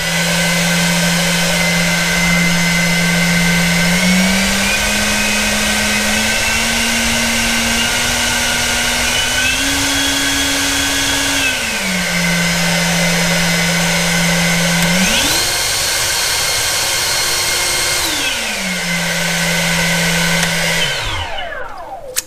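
An EGO cordless leaf blower runs with turbo engaged, a loud continuous whine whose pitch steps up and down several times as speed changes before it spins down at the end.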